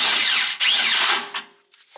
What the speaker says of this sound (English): I'm going to tighten it up with my air ratchet just to get it tightened up.